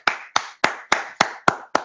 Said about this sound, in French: Les gens vont se applaudir.